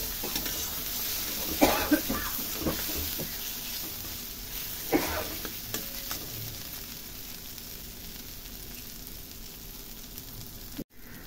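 Spice paste (masala) frying in oil for Bengali-style soyabean kofta, a steady close sizzle with occasional stirring scrapes and a couple of coughs or throat-clearing sounds breaking through early on.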